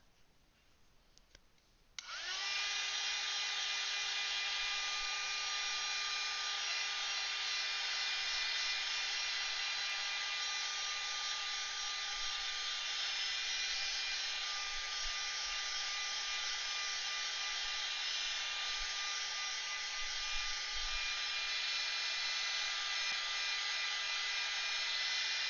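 A hair dryer starts with a click and then runs for a long time with a steady, loud, whining blow, drying Inktense pencil shavings on an art background, and no one talks.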